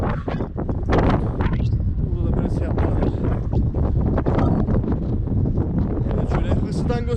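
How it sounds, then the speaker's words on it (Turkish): Wind gusts roar steadily into an outdoor microphone on a cold day among parked cars, a dense continuous rumble with bursts of buffeting, while someone talks over it. "arkadaşlar rüzgar çoğalmaya başladı"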